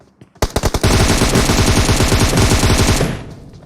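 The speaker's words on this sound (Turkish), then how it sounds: "Duvar arkası vuruyor." Video-game gunfire shooting through a wall: a few single shots, then a dense, loud burst of rapid automatic fire lasting a couple of seconds before fading, close and without talk.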